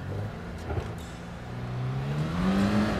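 A car accelerating on city streets during a driving lesson, its engine rising steadily in pitch over a few seconds, close and fairly loud with no talk.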